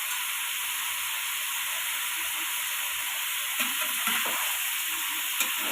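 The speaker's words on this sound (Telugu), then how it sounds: "మొత్తం ముక్కలకి కారము, ఉప్పు, పసుపు పట్టేటట్టుగా కలుపుకోవాలి." Chicken pieces being stirred with chili, salt and turmeric in a pan, a steady sizzling hiss with faint scraping movements underneath, close and continuous without talk.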